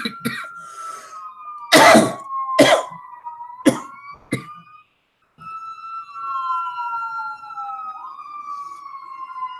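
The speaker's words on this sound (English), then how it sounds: "Don't tell me someone called the fire engine to the next door neighbor again." A fire engine siren sweeps past close by in a residential street, its wailing tone sliding down in pitch, broken by several loud coughs and throat clearing near the microphone before a brief silence.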